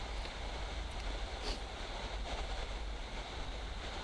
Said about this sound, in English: It gets a bit more windy out here.